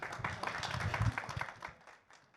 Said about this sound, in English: please, round of applause for Akhilesh